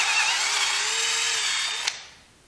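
Power drill boring a hole for a homemade camera crane build: a loud, steady high whine that holds for nearly two seconds, then a brief click as it cuts off and spins down into quiet.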